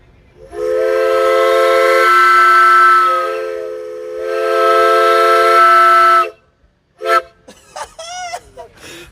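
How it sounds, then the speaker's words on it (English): A steam-engine-style train whistle mounted on a truck blows two long, loud, sustained blasts with a brief dip between them, followed by someone speaking excitedly. "Well, I've got a train whistle."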